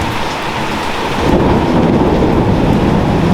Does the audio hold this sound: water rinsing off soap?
no